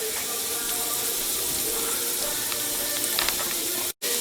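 Carrots, celery and onion sizzling in a pan, a continuous close crackling hiss with faint scattered pops, briefly cut by a sharp dropout near the end.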